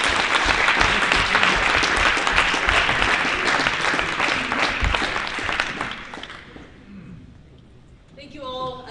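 An audience applauds after student ISP presentations, a dense, loud clapping that rings steadily for several seconds, then thins and dies away, followed by a brief bit of voice at the end.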